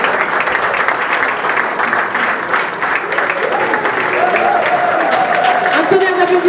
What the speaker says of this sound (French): Un tonnerre d'applaudissements, mesdames et messieurs.